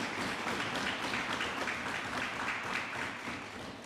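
Audience applause at a formal parliamentary sitting for an International Men's Day debate, a steady wash of many hands clapping at moderate level from across the chamber, holding evenly for several seconds and easing slightly at the end.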